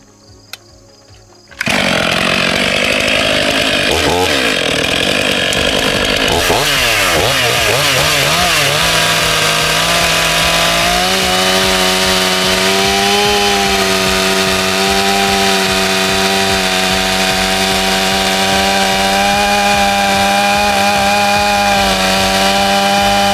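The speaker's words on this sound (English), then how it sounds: "This is going to be the speed test for the stock exhaust with a brand new chain." A Stihl MS 500i chainsaw with stock exhaust and a new chain roars at full throttle after a quiet start, biting steadily into wood, its pitch dipping and settling into a sustained, loud cutting drone.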